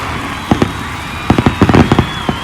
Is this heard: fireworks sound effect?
yes